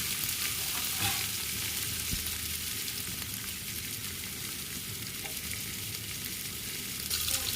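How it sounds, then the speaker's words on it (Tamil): Onions sauté in a pan for a bitter gourd kolambu, a loud, steady, close-up sizzle of hissing oil running unbroken on its own. "நல்லா வெங்காயம் வணங்கிடுச்சு"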